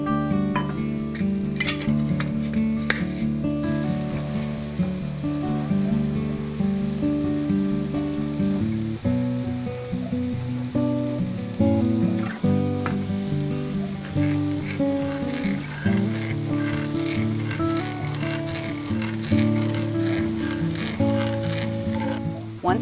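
Sliced apples sizzle steadily in a hot pan for caramel apple oatmeal, a dense continuous frying hiss with occasional stirring, loud and close with no talk.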